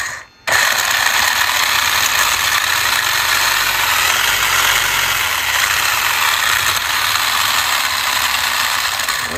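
A small engine revved with a bit of throttle, a loud steady rattling drone with heavy vibration that holds for several seconds after a brief dip at the start.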